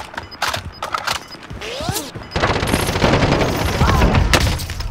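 Gunfire in a military-base shooter video game: sharp bursts and clustered shots, loud and close, run over a continuous rattle of firing and mechanical clatter, with brief talk mixed in.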